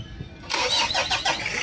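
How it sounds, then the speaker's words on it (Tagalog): After a brief quiet moment, a Mitsubishi Adventure's engine cranks and fires up abruptly, settling into a loud, rough, noisy running sound close by. "mukhang kailangan na itong i-change oil kaya maingay itong makina"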